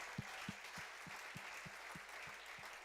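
Church congregation clapping in steady rhythm, about ten evenly spaced claps over a continuous broad crowd wash, moderately loud and without speech.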